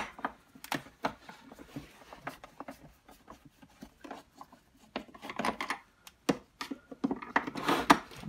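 Screws being backed out of the plastic base of a Henry vacuum cleaner, with scattered close rubbing, scraping and clicking handling noises at an uneven pace.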